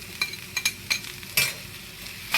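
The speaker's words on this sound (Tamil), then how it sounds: "இதையும் நல்லா வதக்கிடுறேன்." Finely chopped garlic and ginger sauté in a pan for shrimp gravy, a quiet sizzle punctuated by quick spatula scrapes and taps, each stroke short and close.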